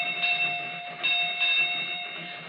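Radio-drama train effect, a steady rumbling ride with a sustained whistle-like tone held throughout, moderately loud and uninterrupted, with no voices over it.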